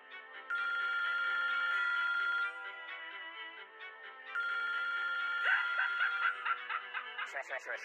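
A phone ringtone rings in two loud, sustained bursts with a pause between, followed by brief laughter near the end.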